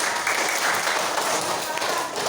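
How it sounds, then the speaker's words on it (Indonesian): Classroom applause for a student's question, a dense steady patter of many hands clapping at close range, filling the whole moment at an even level without letting up. "Kita kasih tepuk tangan."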